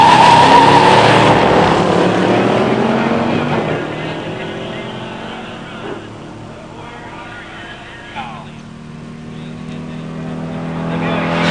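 A 1970 Torino 429 SCJ four-speed and a 1970 Buick Grand Sport Stage 1 automatic drag racing launch with loud engine roar that fades into the distance down the strip, leaving faint background noise.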